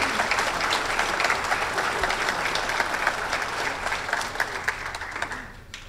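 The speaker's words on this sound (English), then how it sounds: "Let's give them all a big round of applause." Sustained audience applause fills a hall at a 2019 law enforcement awards ceremony, a dense steady wash of many hands clapping that holds evenly for several seconds and tapers off at the end.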